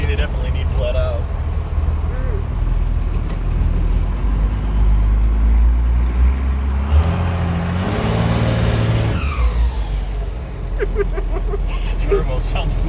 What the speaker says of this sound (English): Turbo sounds badass.